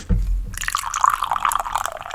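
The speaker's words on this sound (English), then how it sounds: "I'm gonna pour it into the glass." Energy drink pours steadily into a glass with a bubbling, fizzy splash that continues throughout, close up and without talk.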